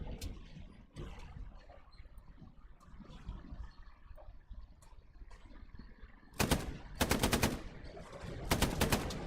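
Tank cannon and machine-gun fire in a war video game, heard as several loud, broadband bursts of rapid shots near the end, following a stretch of rumbling engine and background battle noise.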